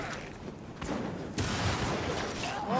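Several sharp gunshot bursts in Warhammer Vermintide, two or three cracks spaced across a noisy, busy background of game ambience.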